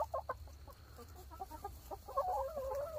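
Backyard chickens clucking nearby, a string of short soft clucks and murmurs that rise into a longer warbling cluck toward the end, fairly quiet with no talk.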